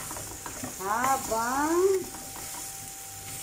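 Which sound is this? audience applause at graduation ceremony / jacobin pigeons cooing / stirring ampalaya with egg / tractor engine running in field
stirring ampalaya with egg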